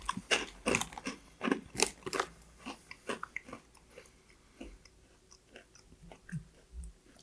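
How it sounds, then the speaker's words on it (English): Crunchy bites and chewing of a beer-flavored pretzel, several sharp crackling crunches close to the mic, loud at first and then fading into softer, sparser chewing, with no talk. "and then I eat the pretzel."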